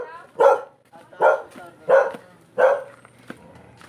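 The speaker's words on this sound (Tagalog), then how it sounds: "Ang daming aso dito" Dogs barking nearby in the Philippines: four loud, evenly spaced barks with faint yips between them over light background noise.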